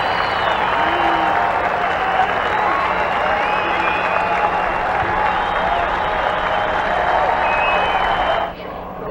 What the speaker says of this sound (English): you'll get a nice round of applause from the